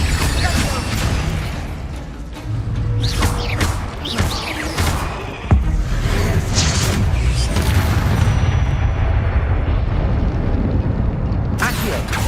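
Incendio fire spells blasting in Hogwarts Legacy on PS5: loud, repeated booming bursts inside a dense, constant wash of game sound, with one sharper hit near the middle.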